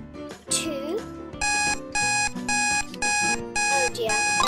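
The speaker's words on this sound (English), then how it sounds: "Oh dear, that's my timer." A timer alarm beeps in repeated bursts of bright electronic tones during a Roblox Adopt Me game, loud and steady with short gaps between pulses, while a voice and game sounds mix in at the start.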